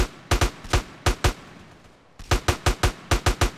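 Gunfire in GTA San Andreas rings out in rapid, loud bursts of sharp shots, a pair and two single cracks, then a brief pause before a denser volley of six quick shots.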